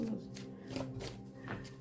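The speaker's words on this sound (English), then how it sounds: "I'm shuffling, guys. I want to shuffle again." Tarot cards are shuffled by hand, giving faint, soft sliding swishes that come in a few brief waves over a low steady background, with a hint of voice underneath.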